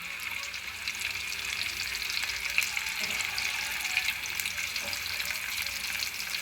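Paneer pieces sizzling in a pan until light brown, a constant bright hiss with scattered pops and a few faint stirring scrapes, no voices.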